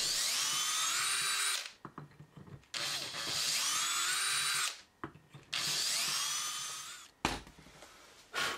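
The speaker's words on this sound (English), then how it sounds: "I drill right the way through the gaskets into the wood below" Power drill boring bolt holes through a small stack of aligned gaskets into the wood beneath, in three loud sustained bursts separated by brief pauses.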